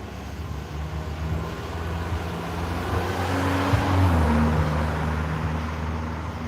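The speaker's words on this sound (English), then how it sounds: "We'll wait for that car, these two cars to come" Cars drive past the historic depot in Stevenson, Alabama, at night, a low engine and tire rumble that swells as a vehicle approaches close by and then fades, with wind noise throughout.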